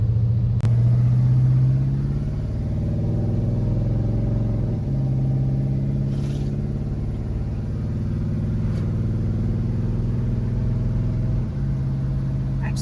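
A 1970 GMC C-15 pickup truck drives along with a steady low engine rumble, briefly dipping and rising as it shifts through gears, heard from inside the cab with no talk.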